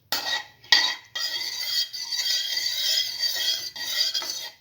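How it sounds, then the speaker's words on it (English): A vermicelli mixture stirred in a pot for cinnamon vermicelli soup: continuous close rasping scrapes of a spoon against the pot with a few clinks, steady and fairly loud, no voices. "Thoroughly mix."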